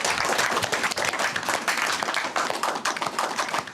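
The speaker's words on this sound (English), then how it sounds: "Applause." Steady classroom applause from a group of children and adults, dense rapid clapping at close range, holding even throughout with no talk over it.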